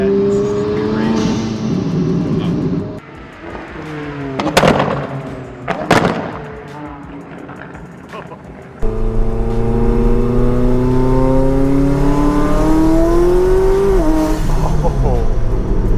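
Supercar engine revving hard with blow-off valve chatter, loud and close, then a sustained aggressive pull as it accelerates, with sharp pops and bursts; an excited voice speaks over it.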